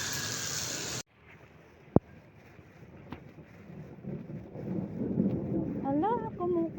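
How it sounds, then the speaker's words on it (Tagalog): Thunder rolls overhead during heavy rain outdoors, with one sharp crack followed by a building rumble under steady rain and wind noise. A person's voice is heard briefly near the end. "Ala, kumukulog."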